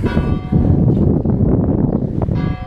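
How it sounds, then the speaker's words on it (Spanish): Church bells ring loudly in Pedraza, Segovia, a dense, continuous wash of clanging tones that sustains throughout with no talk over it. "¡Que no falten las campanadas!"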